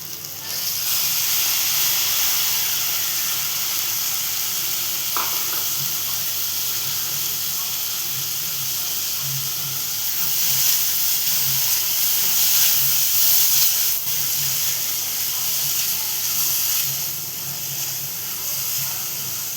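Ambadi (sorrel) leaves with bottle gourd sizzling in a hot pan, a steady broad hiss that holds throughout, with occasional faint stirring clicks and a voice speaking briefly.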